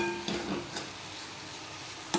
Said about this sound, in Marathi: ते कोरडे होईपर्यंत असं परतून घ्यायचं सगळं।